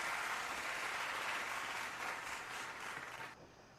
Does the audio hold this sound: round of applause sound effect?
yes